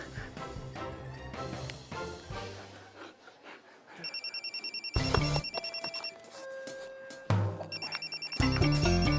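A mobile phone rings in repeated bursts of bright, rapid electronic trilling, sounding twice between passages of background music.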